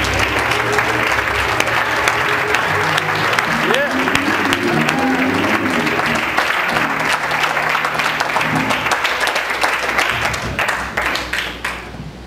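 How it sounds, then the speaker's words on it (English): A congregation at a church service claps together in loud, sustained applause lasting about ten seconds, with voices mixed in and a few cheers, before the clapping thins out and fades near the end. "Let's clap for our hands up."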